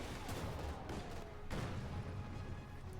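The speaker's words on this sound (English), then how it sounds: "shots firing, armor penetrating being penetrated here by the 2-2-2, as the autocannon rakes off hot death" An autocannon and small-arms fire rattle through a Company of Heroes 2 battle as armor is penetrated, a dense, continuous barrage of shots with heavier booms rising above it.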